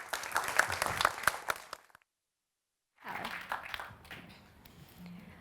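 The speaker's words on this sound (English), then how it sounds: "so give a cheer and make a cacophonous Cyprus fuss over our final Famelabber in our first tremi-final, Fotini Kalampalika" An audience at a FameLab International 2018 science-talk semi-final claps and cheers loudly for about two seconds, falls silent briefly, then resumes with softer crowd noise.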